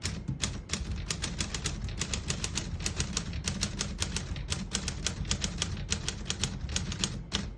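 Typing on a glossy black 1937 Corona Sterling portable typewriter: rapid, crisp keystrikes clatter in an even, continuous stream, close and clear with no voices.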